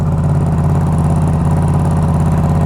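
Motorcycle fitted with a GPR Ghost full-system exhaust and DB killer installed, idling after a cold start: a loud, steady, close mid-pitched throb with regular firing pulses and no talk.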